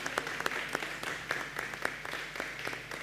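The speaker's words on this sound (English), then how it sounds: "Could you please just give yourself a hand of applause?" An audience at a tech-in-Africa keynote claps briefly. The sharp individual claps are fairly sparse and irregular over a low murmur and stay moderately loud throughout.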